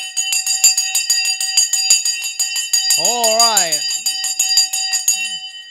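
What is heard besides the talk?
bell ringing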